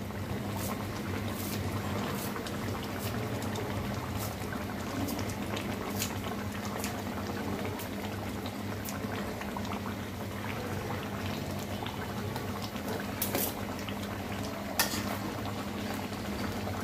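A Chitol fish kalia gravy with thick fish pieces simmering and reducing in a pan, bubbling and popping steadily at close range for about seventeen seconds, with no speech over it.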